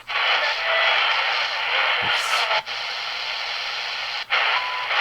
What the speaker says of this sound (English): It's just going through the stations that it's picked out.